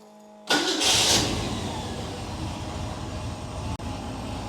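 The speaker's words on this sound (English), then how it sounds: "Go ahead, start your engine." A carbureted car engine cranks and catches after a short silence, then settles into a steady mid-pitched idle, close and fairly loud with a brief dip near the end.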